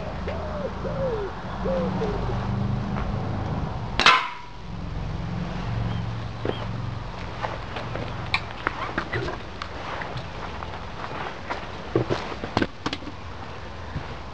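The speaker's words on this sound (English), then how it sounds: "Looks like the bolt's gone all the way through that metal sheet." A 150 lb crossbow bolt strikes a metal sheet at about five yards, giving one sharp loud impact crack in the middle against steady outdoor background noise, followed by faint scattered clicks.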